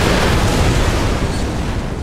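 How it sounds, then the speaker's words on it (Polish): Loud, dense explosions rumble continuously in the video game Far Cry 3, a thick booming roar that fills the short stretch without any speech. "Wybuchy są dosyć ładne."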